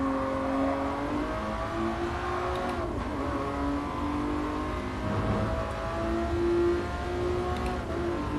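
A 1994 McLaren F1 engine in Gran Turismo Sport, racing and over-revving, a loud, continuous high-pitched engine drone with shifting rev tones and a brief dip midway, with no voices over it.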